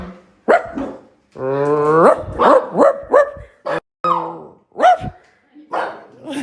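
A dog barks in several sharp, close bursts with growly, yelping tones, mixed with excited human voices and squeals.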